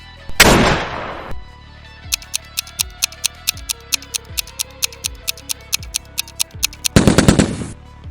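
SCAR assault rifle fire in the video game PUBG: a rapid, evenly spaced burst of about twenty sharp, loud shots, bracketed by bursty whooshing effects at the start and end.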